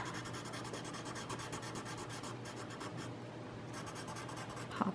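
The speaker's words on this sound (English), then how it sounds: "I'm gonna blend that around a little bit." Soft, rapid scratchy rubbing of a colorless blender pencil across colored pencil on paper, close and quiet, in quick back-and-forth strokes with a brief pause midway.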